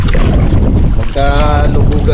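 Loud, steady wind roars against the microphone over a low boat motor drone on the open sea, with a brief higher engine whine partway through.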